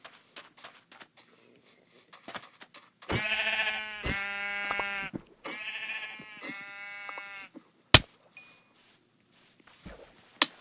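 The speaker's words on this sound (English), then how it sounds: "I'm hunting for sheep." Sheep in the video game Minecraft bleat in a series of four clear, drawn-out calls close by, with faint footsteps and soft clicks around them.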